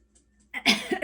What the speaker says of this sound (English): clearing my throat again